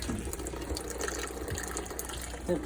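Water runs steadily from an RV sink faucet while pink antifreeze is pumped through the lines, a near, continuous splashing flow with a small clunk near the end.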